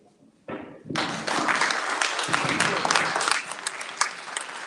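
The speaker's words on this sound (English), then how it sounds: "Another round of applause for Mrs. Stubblefield and Mr. McCoy, because" Audience applause at a county meet-the-candidates forum, starting with a thump and brief faint sound before a full round of clapping swells in and continues steadily with scattered louder claps.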